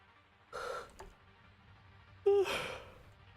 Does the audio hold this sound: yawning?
yes